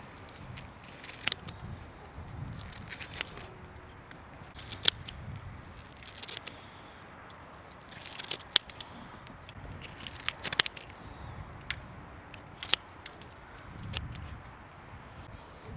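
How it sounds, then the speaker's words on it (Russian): Scissors snip through small sprat fish over and over, crisp close cuts and clicks at irregular intervals against a quiet outdoor background with light handling rustle. "Мы сейчас берем наши шпротки будущие И вот так срезаем."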